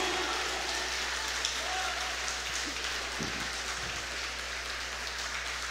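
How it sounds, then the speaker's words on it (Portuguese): A church congregation applauds at length, a dense continuous wash of many hands clapping that holds steady throughout, with a low hum underneath and a few faint voices mixed in. "Aplaude mais forte"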